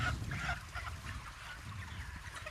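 A dense, continuous chorus of clucking and chattering chickens fills an enclosed poultry house, many voices overlapping with no single call standing out.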